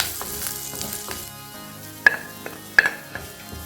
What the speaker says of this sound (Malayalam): പപ്പടം പൊള്ളിച്ചെടുത്ത് ഈ എണ്ണക്കകത്ത് തന്നെ എടുത്തു വെച്ചിരിക്കുന്ന സാധനങ്ങൾ ഇടുകയാണ്.